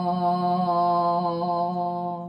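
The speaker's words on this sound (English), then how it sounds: "it's a deep, rich, mid-abdomen tone" A deep, sustained chanted vocal tone, rich with steady overtones, held continuously by a single voice with no other sound.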